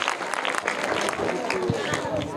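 A crowd claps for a child who gave a correct answer at a quiz, a burst of scattered handclaps under a talking voice, moderately loud and fairly close.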